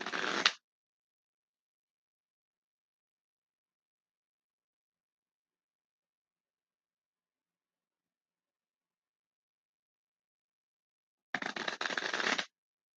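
Two short bursts of riffling card shuffles, one at the start and one near the end, separated by long silence.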